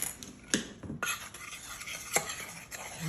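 A utensil stirring a powdered sugar glaze in a bowl, with soft scraping and several sharp clinks against the bowl at irregular intervals, close and quiet with no talk.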